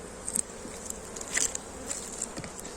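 Anatolian honey bees buzzing around an open, honey-heavy hive, a dense close hum with individual bees zipping past the microphone in brief louder passes, no voices.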